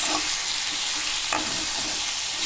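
Chicken curry pieces cooking in a pot, giving a continuous dense sizzle with a faint stir partway through, steady and close.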